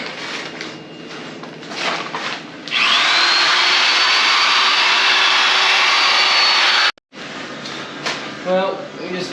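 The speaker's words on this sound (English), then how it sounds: "we're gonna take these wire wheels to it again and see what we can work here" A wire wheel on a power tool whirs against a rusty Jeep transfer case in a loud, steady grinding whine for several seconds. It cuts off abruptly and then spins up again, with shorter bursts of tool noise at the start.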